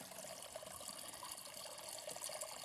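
A garden water feature trickles in a soft, continuous wash of running water, faint and even throughout, with no voices.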